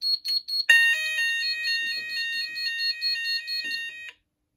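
Kentec Syncro fire alarm panel with Hochiki devices sounding: a loud, steady electronic alarm of stacked sustained tones, opening with a few quick pulsed beeps before holding continuously, then cutting off abruptly, with no voices.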